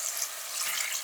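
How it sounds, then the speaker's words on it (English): One cup of water pours onto mutton pieces in a cooking pot, a steady, bright rushing splash that holds evenly throughout the short moment without any talk. "And now to this goes 1 cup of water."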